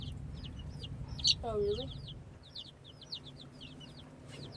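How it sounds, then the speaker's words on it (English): Soft clucks and chirps from a small flock of backyard chickens, with one louder squawk, over low background rumble and a brief spoken remark. "chickens do eat everything"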